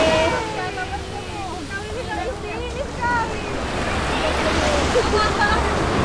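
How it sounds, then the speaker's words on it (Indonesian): Waves wash onto a beach in a steady, broad roar with some wind, while people talk over it throughout. "Sekarang kita lagi di pantai."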